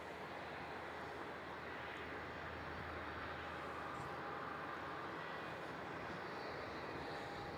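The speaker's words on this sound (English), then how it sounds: "Jetstar 528, runway 34, clear to takeoff." Jetstar 528, an airliner, taking off from runway 34 at Melbourne Airport, its engines a steady, broad roar that holds at one level throughout, heard from a distance with no voices over it.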